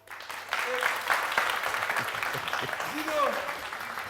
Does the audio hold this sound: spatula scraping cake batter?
no